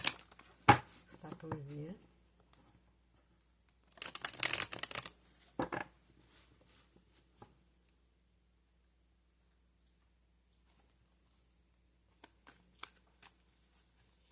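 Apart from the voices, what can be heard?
shuffling tarot cards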